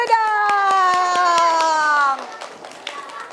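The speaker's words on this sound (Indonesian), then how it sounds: "Tepuk tangan dulu" Children at a kindergarten and primary school clap their hands in a steady, quick rhythm over a sustained, tuneful voice that stops near the end, leaving a few scattered taps.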